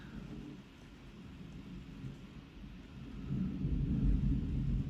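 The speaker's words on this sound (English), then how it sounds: "can you hear that thunder?" Thunder rolls as a low, distant rumble during a rainstorm, steady at first and then swelling louder toward the end, with no voices.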